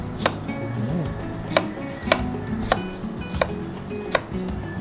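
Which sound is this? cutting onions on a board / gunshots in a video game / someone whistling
cutting onions on a board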